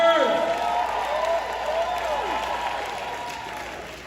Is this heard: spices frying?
no